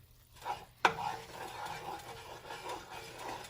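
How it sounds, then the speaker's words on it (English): A spoon stirs gravy in a pan, producing soft scraping and light sizzle throughout, with one sharp clink of utensil against the pan early on, fairly quiet and close. "Keep it stirring."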